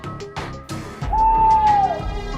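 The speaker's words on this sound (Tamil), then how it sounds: "ஒரு ஆந்த கத்துற சத்தம் கேட்டுச்சு" An owl gives one long, clear hoot in a night scene near a mansion. The hoot rises out of a dense, rumbling dramatic backdrop with other soft effects around it.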